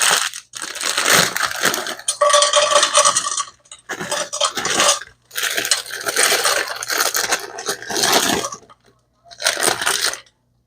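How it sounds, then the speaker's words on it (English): Frozen mushrooms and green pepper going into a pan with a little olive oil: loud bursts of clattering, crunchy rattling and scraping that start and stop several times, close up with no talking. "put a little olive oil in the pan and put my mushrooms and green pepper in to cook down"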